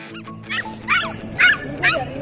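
A small toy-breed dog barks in a series of four sharp, high yips spaced about half a second apart, close and fairly loud over a low background murmur.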